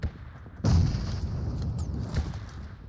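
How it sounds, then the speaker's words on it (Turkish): A grenade explodes in PUBG Mobile with a sudden deep boom that hangs on as a low, rumbling tail for a couple of seconds. A fainter thump follows near the end. "Şuraya bıraktım bombayı."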